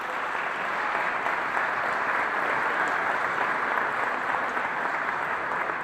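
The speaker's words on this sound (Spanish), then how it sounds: "Un fuerte aplauso." Sustained applause from a large audience in a hall welcoming a forest firefighting professional, steady dense clapping at even loudness throughout with no voices.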